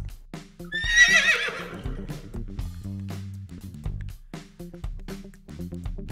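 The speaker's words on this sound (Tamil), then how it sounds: "குதிரை, horse" A horse gives one loud, close, shrill whinny that rises and then trails off. Low rumbling tones and scattered hoof-like clops continue underneath and after it.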